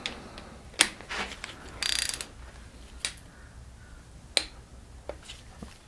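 Torque wrench set to 20 newtons tightening cylinder head bolts on a Peugeot 205 GTI, giving sparse close metallic ratchet clicks and snaps with pauses between, alone with no talk.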